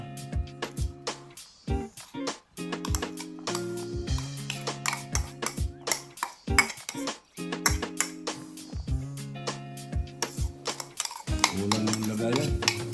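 Onions for chicken-gizzard dinakdakan are stirred in a pan, a utensil clanking and scraping in quick irregular strokes over steady background music.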